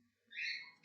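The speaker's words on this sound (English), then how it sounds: "I'm unfortunately quite close to those birds of mine." A single short, bright call from pet birds kept indoors in a home, rising briefly and faint in the background with no talking over it.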